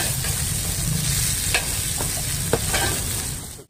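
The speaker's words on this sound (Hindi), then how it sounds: "तड़का लगा के देते हैं।" A dhaba-style dal tadka gets its hot tempering, set beside a ground-level tandoor in Chandigarh. It gives a steady, loud sizzle throughout, broken by a few sharp utensil clinks and stirring sounds.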